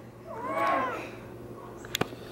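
A house cat lets out one drawn-out, falling meow close by in a family kitchen at mealtime. A faint hum of the room sits underneath, and a brief clatter follows near the end.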